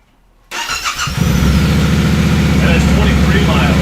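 A new motorcycle engine fires up after about half a second of near silence, then settles into a loud, steady, throbbing idle close by. Its exhaust pulses evenly with a deep, strong low end.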